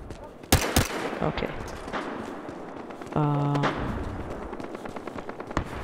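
Video game gunfire in Battlefield Hardline, a few sharp shots early on amid a busy clatter of action, with a player briefly talking.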